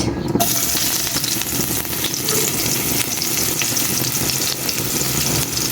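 Onion dropped into a little hot oil for a tilapia and pumpkin curry, bursting into a loud, continuous sizzling fry that stays dense and steady to the end.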